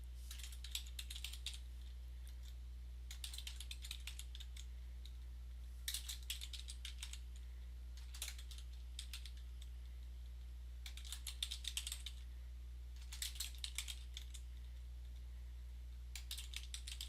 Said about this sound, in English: I'm going to type in exactly what I see on my instructions.